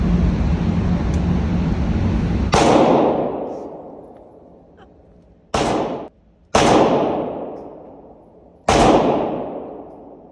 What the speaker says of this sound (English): We're about to test fire our first few rounds.